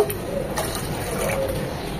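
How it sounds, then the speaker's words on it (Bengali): Water, two cups of it, poured into a hot pan of freshly roasted cumin seeds, making a steady, fairly loud rushing hiss that holds for about two seconds. "এখন এখানে দিয়ে দিব 2 কাপ পানি।"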